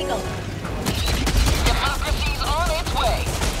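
Bombing airstrike explosions in Helldivers 2, fighting the Terminids: a continuous loud run of blasts, booms and gunfire crackle, with a voice talking over the barrage.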